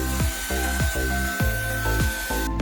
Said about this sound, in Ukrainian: прорізаємо пилкою шви